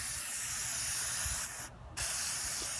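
WD-40 sprayed into the spark plug holes of an engine head, a close, loud continuous aerosol hiss with a brief pause near the end before spraying resumes.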